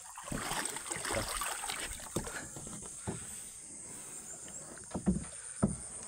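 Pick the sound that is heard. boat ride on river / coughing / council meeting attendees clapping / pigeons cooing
boat ride on river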